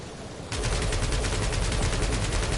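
Sustained rapid gunfire from Marvel's Guardians of the Galaxy video game erupts suddenly after a brief quiet start, a dense continuous burst of automatic shots that stays loud and steady to the end.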